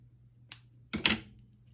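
Scissors snip through paper for a Hansel and Gretel journal, close and quiet, with a short crisp cut followed by a longer rustling slice.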